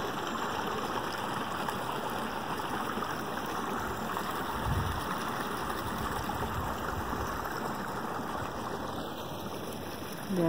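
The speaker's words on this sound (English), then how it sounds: "The water's going that way." Steady broadband rush of canal water flowing beneath a footbridge in a swampy area along the Portage Canal, continuous and close with a faint breeze, no talking.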